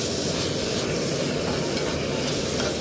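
Onions fry with keichan, the Gifu chicken dish, in a pan at home, making a loud, steady, unbroken sizzle and crackle close up without pauses.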